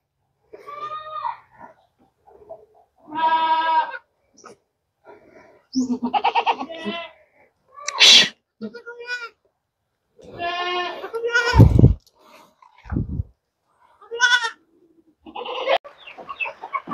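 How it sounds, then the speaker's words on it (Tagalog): Goats bleating on a farm after rain, a newborn among them, several loud wavering bleats in separate bursts close by with short pauses between, a few sharper cries mixed in. "Mga kambing natin na nagsimpuntahan dito"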